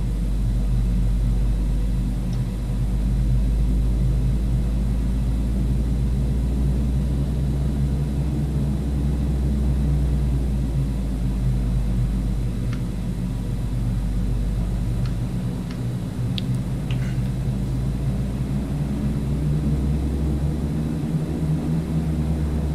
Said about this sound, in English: So I'm ready to taxi when you guys are. I'm already taxiing.